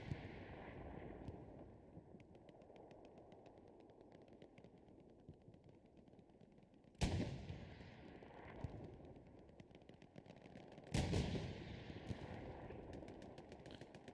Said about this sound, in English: AT and Panther shooting back, and the 76s are just constantly taking tons of damage here.